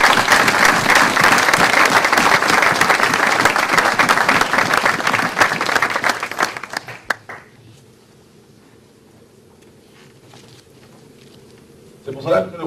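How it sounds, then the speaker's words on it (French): A church congregation breaks into loud, sustained applause and clapping to acclaim the Lord, then the clapping dies away around seven seconds into near quiet, with a brief burst of sound at the very end. "Est-ce que nous pouvons acclamer le Seigneur?"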